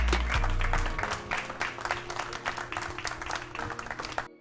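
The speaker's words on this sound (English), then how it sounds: "Let's give him a round of applause, everybody." Audience applause at the 2015 U.S. Open 8-Ball Championship pool tournament, a steady patter of many hands clapping that carries on throughout, moderately loud and unbroken, with no talk over it.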